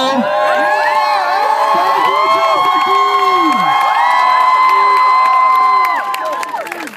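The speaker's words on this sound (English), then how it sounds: "just give her a round cheer, a loud cheer" Students in a school crowd let out a loud, sustained cheer, with whoops and shouts layered over steady crowd noise for several seconds before it starts to fade.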